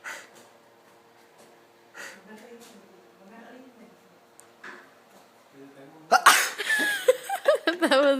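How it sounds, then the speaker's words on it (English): A person tickles their nose and lets out a sudden loud sneeze near the end, after quiet talking and faint breathing, with a burst of reaction sounds just afterward. "You're gonna tickle your nose and sneeze with your eyes open."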